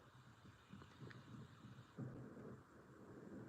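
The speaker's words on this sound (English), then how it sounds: "There's the thunder." Low, rolling rumble of thunder rising and fading over a few seconds, fairly quiet and distant, with a stronger surge partway through.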